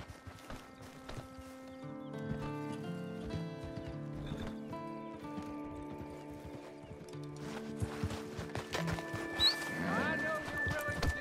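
Hooves clip-clop in a steady trot with a horse's whinny, under game music and a talking voice in Red Dead Redemption 2.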